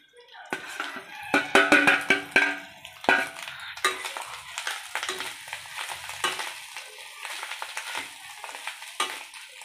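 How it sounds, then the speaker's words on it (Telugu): Fish eggs added to a hot pan and stirred, giving a sizzle with clattering, scraping strokes of a metal spoon against the pan, loudest and busiest early on and then a steadier frying hiss, close up. "ఇప్పుడు ఫిష్ ఎగ్ వేసుకోవాలి ఫ్రెండ్స్"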